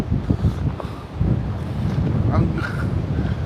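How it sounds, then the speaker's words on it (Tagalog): Wind blowing through Sherwood Forest in Nottingham, England, a steady rushing noise that gusts and swells close to the microphone and buffets it, with muffled voices talking underneath. "Naririnig nyo ba yung hanging amihan kung tawagin sa atin?"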